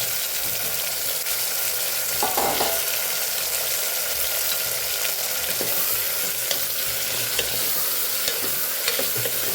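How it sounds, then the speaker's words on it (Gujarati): Cluster beans (guvar) sautéing in hot oil tempered with cumin and asafoetida for a guvar dhokli curry: a steady, continuous sizzle and frying hiss with occasional stirring scrapes, close and fairly loud, with no talking. "અહીંયા આપણે ગુવારને સરસ આપણે પહેલાં તેલમાં સાતળી લેવાનો છે"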